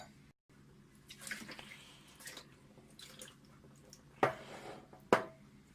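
Deionized water poured from a glass over a 12-inch SkyWatcher 300P Flextube Dobsonian telescope mirror makes faint trickling and dripping, with two sharper splashy drops standing out near the end in a quiet room.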